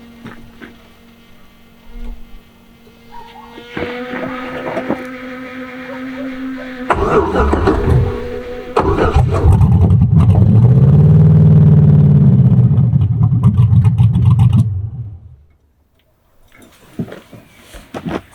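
Engine of a 1963 Pontiac Grand Prix cranking over with its original key and catching, settling into a loud, steady running rumble for several seconds before cutting off abruptly.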